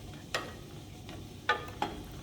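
A spoon stirs coconut milk heating in a pot, giving a few soft scrapes and light taps against the pot over a quiet background.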